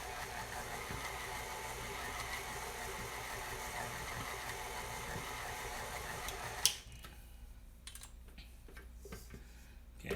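A stand mixer with a paddle attachment whirs steadily as it churns crumbly quiche dough, a close motor hum with light knocking that cuts off abruptly near the end, leaving faint clatter.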